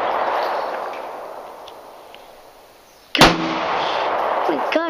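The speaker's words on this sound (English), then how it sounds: "now he's bringing out his pistol" A single sharp pistol shot cracks at a shooting range, loud and close, following a stretch of steady background rumble and leaving a ringing, reverberant tail.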